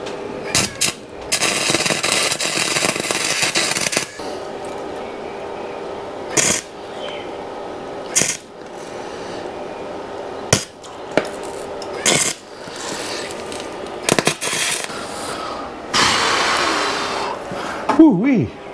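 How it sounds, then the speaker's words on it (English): Alloy welding on a Yamaha FZ6 motorcycle part comes as a steady crackling, hissing arc in repeated bursts separated by sharp pops and short pauses, close and fairly loud. "I need to build it up with plenty weld, alloy weld"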